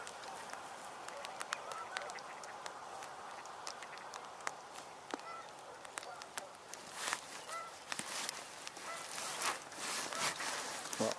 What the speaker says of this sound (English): I'm pretty sure I heard an American widgeon